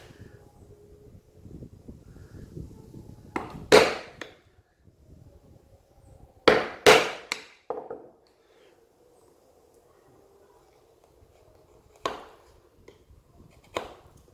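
A wooden mallet drives a chisel into wood at a workbench: a few sharp, close knocks in short clusters separated by quiet pauses, with faint handling noise between strikes.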